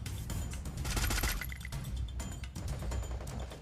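Rapid bursts of gunfire from the mobile shooter game Free Fire crackle in quick, uneven volleys with sharp cracks and short metallic clinks, at moderate level with no voice over them.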